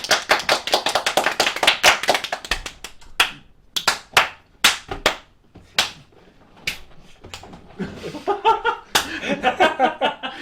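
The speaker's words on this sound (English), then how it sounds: "Everybody, clap your hands!" Several people clap in sharp, uneven bursts, with laughter and scattered slaps mixed in, the claps loud and close with short pauses.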